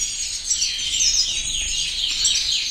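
Young siskin chicks chirping, a bright chorus of rapid high tweets and calls, close and continuous with no talking.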